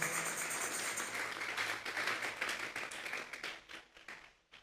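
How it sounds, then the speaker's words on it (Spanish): A church congregation clapping together as an offering of applause to God, steady dense clapping that fades out toward the end, fairly quiet and with no talking over it. "Vamos a darle una ofrenda de palmas a Dios en esta hora."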